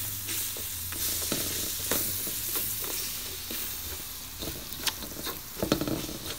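Annatto is stirred in oil in a frying pan, giving a bright, steady sizzle close by, with repeated scraping strokes of the spoon that grow busier toward the end and no talk.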